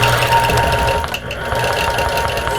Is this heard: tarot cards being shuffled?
no